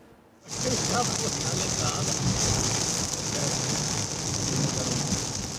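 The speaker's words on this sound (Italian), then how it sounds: "Pioggia battente" Heavy rain pouring steadily after a brief quiet start, a dense, loud hiss of drops hitting surfaces that holds constant throughout.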